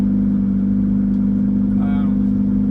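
Peterbilt 389 flatbed truck engine while driving, a loud, constant low-pitched drone heard from inside the cab, steady throughout with a brief faint higher tone near the end.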